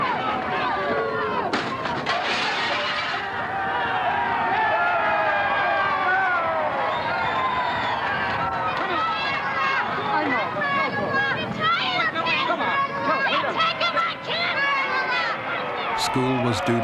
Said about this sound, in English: The crowd pursued Kennedy to the doors of the federal building.